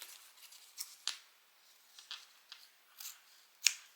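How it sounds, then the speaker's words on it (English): Sewing scissors snip away excess fabric along the edge of a zipper, a series of quiet, crisp cuts spaced irregularly in a quiet room. "I'm just going to put my scissors along the back edge."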